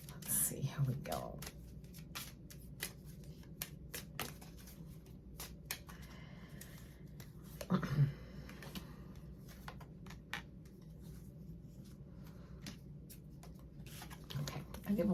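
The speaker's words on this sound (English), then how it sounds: "I'm going to shuffle these up, and we're going to do our 3-card pick." Soft shuffling and riffling of a deck of oracle cards, light papery flicks and taps repeating steadily, with faint whispery noise underneath.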